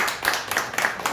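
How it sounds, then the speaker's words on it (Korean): Church congregation clapping together at a Sunday worship service, a dense, steady patter of many hands sustained throughout at moderate level. "오랜만에 와서 박수 한번 합시다"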